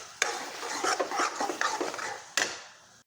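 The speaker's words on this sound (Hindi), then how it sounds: "सारे मसालों को भी हमें मिक्स करते हुए पका लेना है" A spoon scrapes and stirs through thick chole gravy with spices, a close series of rough rubbing strokes with sharp knocks against the pot at the start and near the end.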